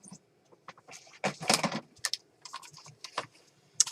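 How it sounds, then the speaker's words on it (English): Paper being cut for a mixed media art project, heard as a run of crisp, close snips and rustles in irregular bursts, some louder than others, with no talking. "I want to cut off this area here."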